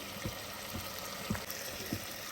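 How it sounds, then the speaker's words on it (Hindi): Potatoes and masala sauté in hot oil in a pan, a steady faint sizzle with a few soft low bumps from stirring, close and quiet. "इसका कलर चेंज होने तक हम इसको भूनेंगे"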